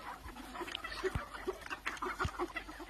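Free-range village chickens let out into a farm field cluck softly and repeatedly, with short scattered calls over a quiet outdoor background.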